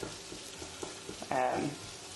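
Onions softening and just starting to brown in a pan for a winter soup, giving a low steady sizzle that swells briefly louder midway, heard alone without talk.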